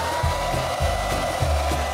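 A hair dryer blows with a continuous, loud whooshing hum that pulses in a few regular surges of low rumble.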